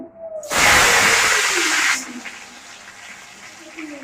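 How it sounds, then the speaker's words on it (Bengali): Tomato dropped into hot oil sets off a sudden loud hiss that lasts about a second and a half, then fades to a quieter simmering sizzle. "এবার তেলের মধ্যে দিয়ে দেবো টমেটো"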